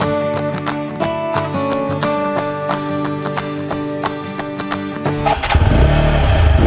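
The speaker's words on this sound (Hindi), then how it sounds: "तो ये है इसका एग्जॉस्ट," A TVS Apache RTR 160 4V BS6 motorcycle idles with a throbbing, evenly pulsing exhaust note, then its engine revs up into a louder, rougher roar in the last second or so, with no talking.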